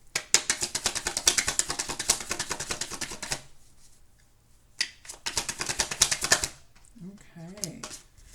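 Tarot cards are shuffled in two fast bursts of rapid, crisp riffling clicks separated by a short pause, close and fairly loud, and a voice briefly speaks near the end.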